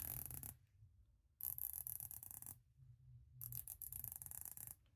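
Close, crisp ratcheting clicks come from the bezel of a Doxa Sub 200 Sharkhunter dive watch as it is rotated, in three quick bursts separated by short silent pauses.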